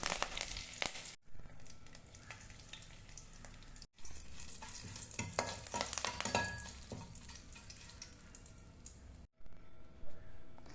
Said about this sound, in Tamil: தாளிப்பதற்கு கடுகு, வெந்தயம், மிளகாய் வற்றல், கருவேப்பிலை, பெருங்காயம் எல்லாம் சேர்த்து வதக்கி தாளிச்சுக்குங்க.